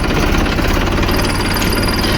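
A tractor engine runs loudly and close while sand is unloaded, a dense rough rumble with steady chugging pulses and no pauses.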